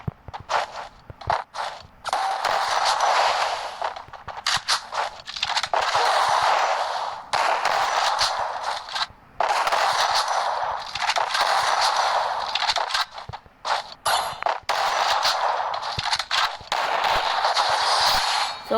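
Rapid bursts of gunfire from the Free Fire battle royale mobile game, loud and near, firing almost continuously in long volleys separated by brief pauses, with no talking.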